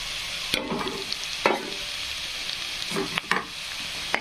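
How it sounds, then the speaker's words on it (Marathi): Chopped onion frying in hot oil in a home kitchen pan, with homemade black chili powder being added; a steady soft sizzle runs throughout, broken by a few sharp stirring scrapes and clatters, with no talking. "फ्राय झाला कांदा. तेल तापलेलं आहे ना, त्यामुळं जास्त पण करपवायचा नाही."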